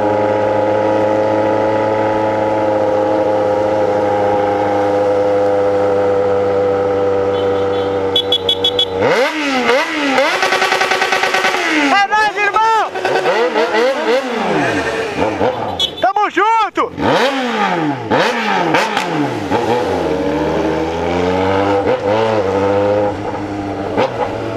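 A Yamaha XJ6 motorcycle with a straight-pipe exhaust idles with a steady rumble, then revs hard in repeated loud, rising and falling bursts that dominate the scene.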